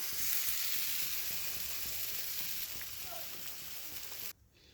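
Fried masala in oil sizzling as it is added to khichuri, a steady bright hiss for several seconds that cuts off abruptly near the end.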